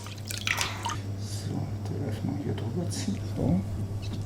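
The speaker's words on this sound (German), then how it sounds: "Jetzt nehme ich mir einen einzelnen Darm raus, so dass er leicht geöffnet wird, dass ein bisschen Wasser hier einfließt." Water trickles into a single natural sausage casing at a Berlin street-food sausage maker, giving soft, irregular dripping and splashing over a low electrical hum, with a person talking over it.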